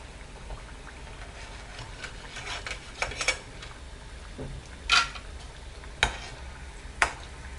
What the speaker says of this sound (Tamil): ஃப்ரை ஆகிடுச்சு பொன்னிறமாக.